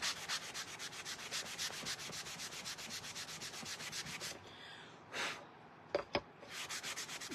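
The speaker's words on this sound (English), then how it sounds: "Let's go ahead and sand it a little bit." Sandpaper rubs steadily over painted wooden blocks in quick back-and-forth strokes for several seconds, then stops and gives way to a few softer scuffs and light knocks.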